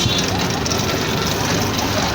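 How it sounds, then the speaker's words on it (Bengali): A steady low engine drone and road rumble fill the cabin of a moving Alam Asia intercity VIP bus running direct from Dhaka to Mymensingh, constant and close throughout. "এটা হচ্ছে ময়মনসিংহের ডাইরেক্ট বাস, ঢাকা থেকে ময়মনসিংহ পর্যন্ত ডাইরেক্ট যান।"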